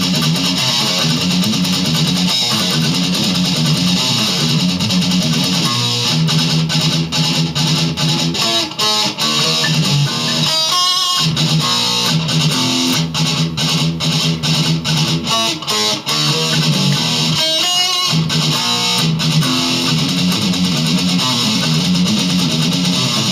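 Electric guitar riff played with heavy distortion, galloping palm-muted rhythm broken by ringing power chords, steady and loud throughout with no talking.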